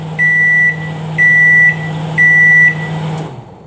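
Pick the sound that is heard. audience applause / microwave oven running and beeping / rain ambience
microwave oven running and beeping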